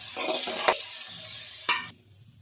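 Okra sautéing in a pan for vendakkai kara kulambu, a steady soft sizzle with two sharper scraping stir strokes partway through, close and fairly quiet with no voices.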